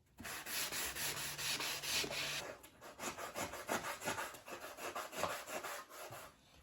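Rough, scratchy sanding-sponge strokes against dried spackle on a wall, steady at first and then breaking into a quicker back-and-forth rhythm, close and fairly quiet.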